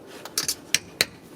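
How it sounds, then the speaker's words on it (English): Metal scraper prying at the rear differential cover of a 1999 Ford Explorer, giving a few sharp, close metallic clicks and scrapes in quick succession with short pauses between. "Let's remove this cover using this scraper."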